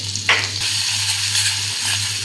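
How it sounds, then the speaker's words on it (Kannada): Steady sizzling of spices frying in hot oil for tempering, a continuous close hiss with a faint low hum underneath and no voices. "ಒಂದು ನಿಮಿಷ ಇದು ಫ್ರೈ ಆದ್ರೆ ಸಾಕು ರೀ"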